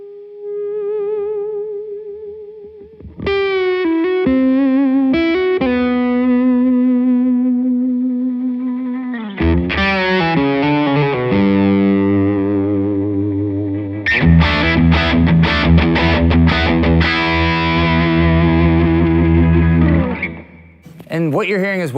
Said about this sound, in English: I'm just plugging this into a TC Electronics Sentry, just a noise gate, just for the P90 being so close, straight into the amp